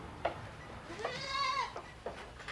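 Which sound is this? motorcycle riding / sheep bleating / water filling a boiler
sheep bleating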